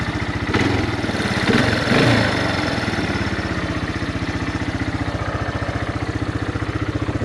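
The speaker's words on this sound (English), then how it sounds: "It's idling really good." A spare quad ATV engine idles steadily with the choke off after a carburetor repair, a loud, close, even putter of rapid regular firing pulses with a brief rise in revs near the start.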